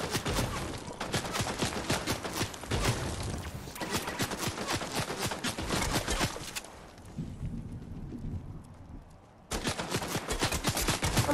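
Video game gunfire in rapid, dense bursts of automatic shots fills nearly the whole stretch, broken by a short lull near the end before the firing resumes loudly.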